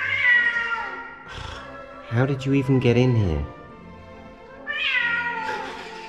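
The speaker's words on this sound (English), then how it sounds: "Battling cats." Cats fighting and meowing inside a room at the Radisson Blu Palace Resort in Djerba, Tunisia: drawn-out wails at the start, a burst of loud yowls in the middle, then another long meow, with someone speaking among them.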